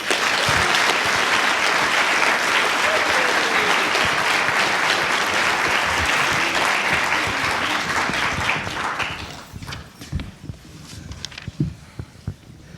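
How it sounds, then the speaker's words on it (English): An audience at a debate on whether God exists breaks into sustained, dense applause to welcome the speakers, loud and steady before fading to scattered claps. "please join me in welcoming Professor Kitchens and Sayers with a round of applause."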